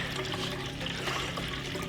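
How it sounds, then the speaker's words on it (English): Water being pulled from a jug through beer lines during line cleaning, a steady close gurgling rush and trickle that runs unbroken for the whole short stretch. "You're going to want to pull through 2 big jugs of water."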